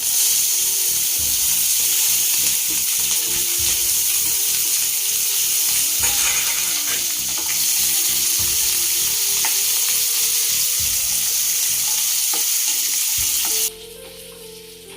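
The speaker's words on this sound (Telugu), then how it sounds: "చూడండి ఉల్లిపాయలు వేయించుకొని రసంలోకి తాలింపండి." Onions sizzle steadily in hot oil with mustard seeds, cumin and dried red chillies for a tomato rasam tempering. The loud, continuous frying hiss drops off sharply near the end.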